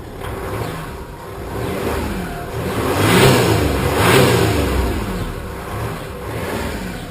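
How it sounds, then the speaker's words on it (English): A 2012 Range Rover Sport HSE engine revs loudly close by, swelling through two broad rises in pitch and volume and then settling back toward idle, with no one talking. "And now it's going to be time for the rev up."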